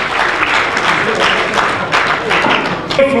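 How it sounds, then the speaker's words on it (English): An audience at a powerlifting nationals competition breaks into loud, sustained applause, with clapping rolling in uneven bursts and crowd noise mixed in, tapering slightly near the end. "Let's give him a round of applause."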